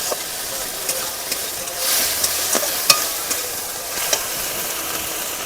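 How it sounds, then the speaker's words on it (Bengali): Chopped tomato, onion, ginger and garlic sizzle in a pan for a fish curry, a steady frying hiss broken by regular scraping stirs of a spatula, close and fairly loud with no talk. "এই টমেটো পেঁয়াজ আদা রসুন এগুলো সব একসঙ্গে দিয়ে ভালো করে কষিয়ে নিতে হবে।"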